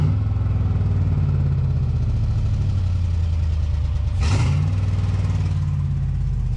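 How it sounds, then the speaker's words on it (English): An LS-swapped engine that has just had a random misfire fixed holds a loud, steady idle up close, then gives one quick rev that climbs and drops back to idle. "which actually now I can rev it up though"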